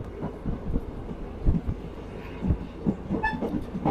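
A train rolls steadily past through a tea garden, its wheels thumping over rail joints in an irregular rhythm, moderately close, with no voices.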